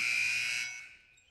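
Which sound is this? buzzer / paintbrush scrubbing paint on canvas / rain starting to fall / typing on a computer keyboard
buzzer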